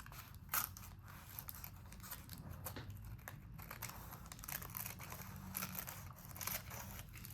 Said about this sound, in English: I'm wondering if I need bigger scissors.